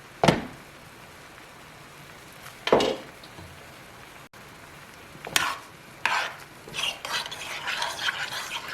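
A spoon stirs curry in a pot, giving a few sharp scraping knocks at first and then a longer run of scraping and clinking toward the end, close-up with no talking.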